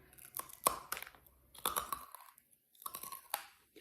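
Crunchy turrón nougat being chewed close to the microphone, with loud, sharp crunching bites in irregular bursts separated by short quiet gaps.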